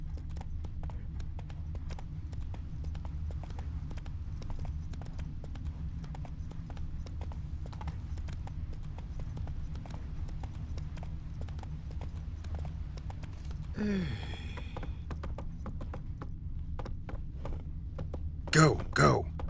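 A horse gallops in The Witcher 3, a fast, steady clip-clop of hooves running continuously, with a brief whinny-like burst near the middle and another sound toward the end.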